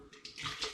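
Dark, liquorice-like liquid made from home-brew cider lees is poured into a container, a short splashy gush that swells and continues steadily, close and fairly quiet.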